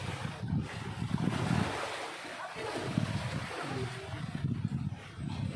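Sea waves wash against the shore in a steady, continuous rush of surf, with wind buffeting the microphone throughout and no voices.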